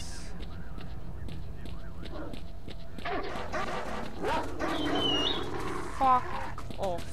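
Dogs barking in the video game S.T.A.L.K.E.R. Lost Alpha, several distant barks and yelps scattered over steady ambient background noise, with a louder honking call near the middle.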